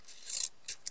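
Small precision scissors snip and close: one longer rasping cut followed by two quick, crisp shorter snips, close and fairly quiet.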